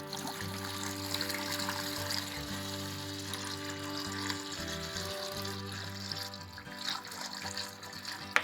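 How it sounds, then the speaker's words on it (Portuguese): About three litres of water is poured into a bucket while preparing liquid feed for bees, a steady splashing trickle over a low musical hum. "3 litros de água, para poder despejar aqui no balde"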